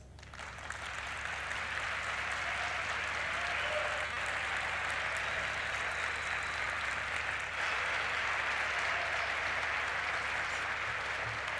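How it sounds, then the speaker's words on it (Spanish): Loud, sustained applause from a large audience, steady clapping filling the room for several seconds without a break. "Muy fuerte, por favor, el aplauso"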